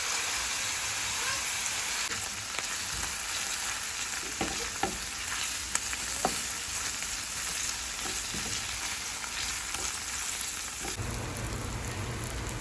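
Chopped onions and cashews fry in a kadai over medium heat with a steady close sizzle and hiss, broken by a few sharp stirring clinks and scrapes. No one speaks.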